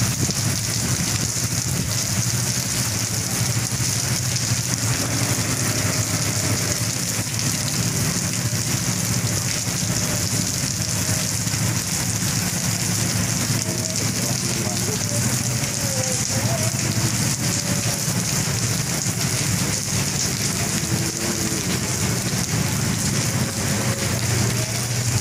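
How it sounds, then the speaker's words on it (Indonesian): Heavy rain pours steadily at a bus depot in Bekasi, a dense, even hiss of drops on surfaces that stays loud and constant throughout, with no talking. "Wah, hujannya makin deras kawan-kawan"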